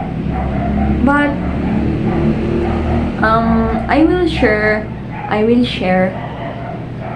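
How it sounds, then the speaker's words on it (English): A dog barks and yips intermittently in the background, short sharp bursts with a whimpering edge, partly under a person talking close to the mic. "the dog keeps barking"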